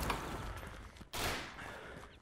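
Gunfire in the video game Mare Nostrum comes as a fairly quiet, dense rattle of shots, breaking off briefly before another sharp burst and continued firing.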